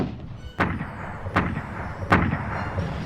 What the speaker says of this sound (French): Ils vont être la cible d'un bombardement précis de l'artillerie de Bradley.